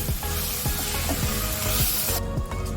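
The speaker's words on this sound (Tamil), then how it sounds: "It should be fried little in oil and it should be mushy." Onion and tomato fry in oil in a kadai while kadai paneer is cooked, with a steady close sizzle and several soft rhythmic scraping strokes of stirring; no voices.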